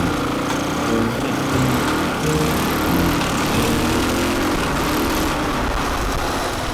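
A 2006 KTM 450 four-stroke enduro motorcycle engine runs at a steady, buzzing idle-like drone, fairly loud and close, with no talking.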